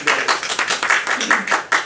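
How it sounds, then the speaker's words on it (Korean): A lecture audience gives a brief burst of applause, a short stretch of rapid overlapping hand claps filling the room at moderate loudness. "그분에게 박수 한번 쳐드리도록 하겠습니다"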